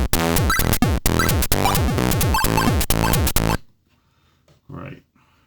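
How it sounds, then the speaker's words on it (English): Rapid chiptune bleeps from the maxYMiser tracker play as loud, choppy synthetic tones in quick repeated bursts with pitch sweeps, stopping abruptly and followed by near silence and a brief faint murmur. "bleep sounds."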